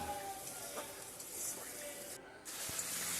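Ground turmeric, chilli and cumin with oil being sautéed in a pan for a prawn curry, a soft continuous sizzle with light stirring scrapes, interrupted by a brief gap.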